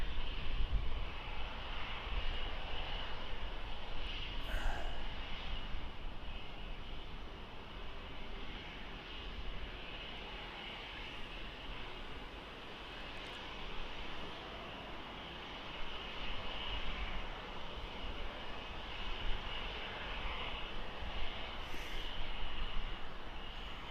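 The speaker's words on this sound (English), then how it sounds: "Is this that King Air? Yeah, it's been doing the surveying." Beechcraft King Air turboprop flying over Birmingham Airport: a faint, distant, continuous engine drone that holds steady and swells slightly at times, heard alone in open air.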